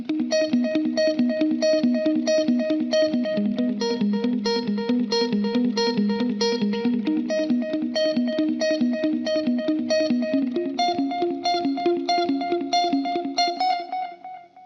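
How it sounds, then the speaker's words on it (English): Electric guitar run through a Friedman amp plugin with a touch of drive and reverb plays a steady, full chordal riff with ringing overtones, loud and continuous until it trails off at the end. "Maybe add some drive in there, just a touch, and some reverb as well"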